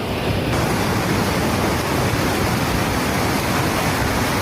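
The overflowing Numo River surges in a strong floodwater current through low ground in the Philippines, a loud, dense, unbroken roar of rushing water close by, with no voices.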